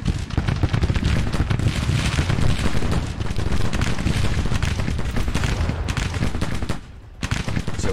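Massed musket volleys and cannon fire from a Civil War battle in Missouri, in the Grand Tactician: The Civil War strategy game: dense, continuous crackling gunfire with heavy booms, loud and sustained, briefly dropping near the end.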